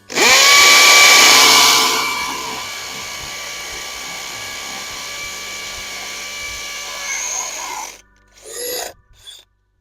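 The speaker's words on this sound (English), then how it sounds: "I don't think I should be drilling bigger than 1/2 inch with this drill" A DeWalt DCD805B 20V Max hammer drill bores a half-inch hole, a loud whining spin-up that strains for about two seconds, then a steadier drone until it stops near eight seconds, followed by a few brief rattles.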